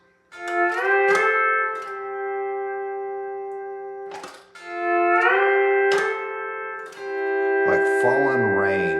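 Pedal steel guitar playing a phrase of a song, sustained sliding chords swelling in three long phrases with brief plucked attacks, clear and close with no talking.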